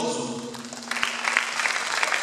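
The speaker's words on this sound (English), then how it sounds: "It's a round of applause to all of you also" Applause from a room of twelfth-standard students at a school life-skills seminar, a broad steady patter of clapping that carries through the whole stretch, with a voice briefly audible near the start.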